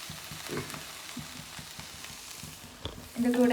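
Samosa filling is sautéed in a pan, giving a soft, steady sizzle with faint stirring scrapes close by; the sound is fairly quiet and a louder clatter comes near the end.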